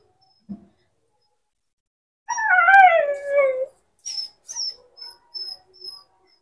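A dog kept indoors and wanting to be let out howls in one long wavering cry, then gives a series of short high whines, close and clear against a quiet background.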